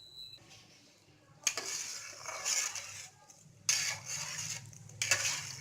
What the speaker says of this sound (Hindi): इसे अच्छे से चम्मच से चला लेंगे, मिक्स कर लेंगे